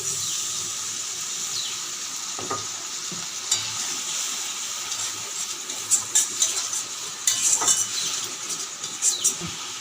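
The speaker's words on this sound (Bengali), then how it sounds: "এখন আমি দিয়ে দিচ্ছি শস্যটা বেটে রেখেছিলাম শস্য বাটাটা দিয়ে দিচ্ছি" Mustard paste goes into frying onion and tomato for a mustard pabda fish curry, a steady sizzle with spoon scrapes and a few light metallic clinks growing busier toward the end.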